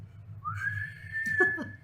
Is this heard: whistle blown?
yes